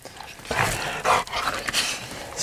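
A coonhound shut in its dog box with a freshly caught raccoon gives off close, restless whines and low growls in uneven bursts, with no talking.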